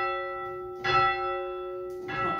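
A small tower bell in an English parish church rings two clear strikes about a second apart, its bright tone ringing on steadily between them, close by and with no talking.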